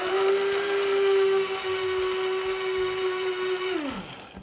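Electric grinder whirring at a steady high pitch as it reduces coffee to a fine powder, loud and close, then winding down at the end.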